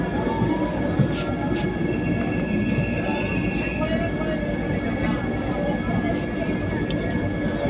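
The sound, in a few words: Puri Howrah Vande Bharat Express train departing station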